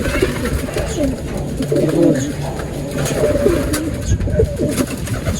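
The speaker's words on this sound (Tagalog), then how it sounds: "bumalik mga kalapatids" Pigeons coo steadily at a loft, a close, continuous chorus of low throaty calls over a busy outdoor background.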